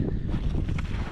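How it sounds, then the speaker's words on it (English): Strong wind buffeting the microphone on a hike near an old train derailment site, a continuous loud low rumble and rush with no other sounds. "Oh man, it's windy."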